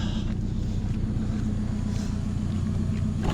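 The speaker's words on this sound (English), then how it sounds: "I gotta turn off this car now." A 2005 Toyota Camry LE engine hums at idle, with a steady low rumble running continuously and evenly throughout.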